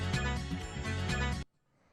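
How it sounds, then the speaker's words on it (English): A looped disco sample plays through a gritty vinyl distortion effect, thick and crunchy with pulsing beats, then cuts off abruptly, leaving a faint crackling tail. "I have the vinyl distortion"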